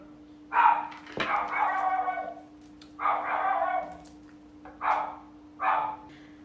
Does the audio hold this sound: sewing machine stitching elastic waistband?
no